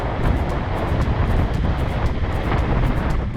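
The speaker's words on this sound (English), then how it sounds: "now only the sound of wind is in your ears when riding" Steady, loud wind rushes across the microphone while riding a Super Soco TC electric moped, a continuous roaring buffet with no voices or engine sound.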